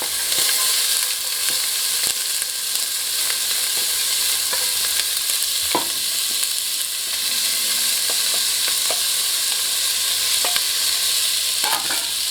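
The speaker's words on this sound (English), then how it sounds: "then we're going to add our onion and garlic, which we finely chopped" Finely chopped onion and garlic fry in a hot pan for masoor dal, giving a loud, dense, unbroken sizzle with a few scattered pops and faint stirring scrapes, close up.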